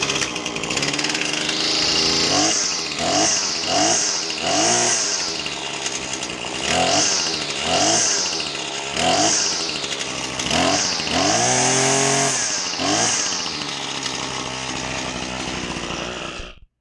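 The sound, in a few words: Husqvarna 525LS strimmer engine running after being flooded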